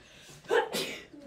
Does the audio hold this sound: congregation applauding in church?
no